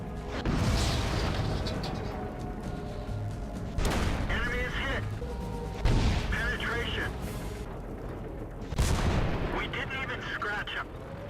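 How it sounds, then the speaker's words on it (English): Tank cannons firing in the World of Tanks video game, including an IS-3, with four heavy booming shots spaced a few seconds apart over constant battle rumble, while a voice talks over the action. "the IS decides that he can take Retrospect out in one shot and goes for it"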